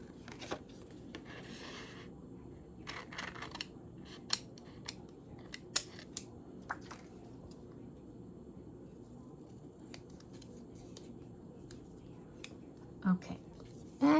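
Scissors cut paper for a scrapbook page in short, quiet snips spread across the stretch, close and soft against a low hum, with a louder rustle of paper near the end.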